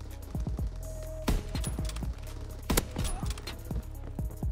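Rapid sniper rifle fire in a video game, a string of sharp close shots in uneven bursts, with a couple of louder cracks standing out.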